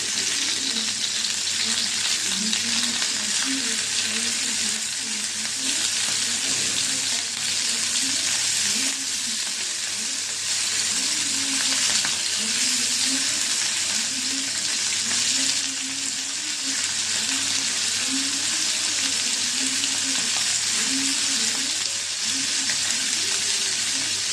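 Hilsa-type fish frying in a pan of hot oil, a steady broadband sizzle with soft bubbling pulses running throughout, loud and close, with no talking.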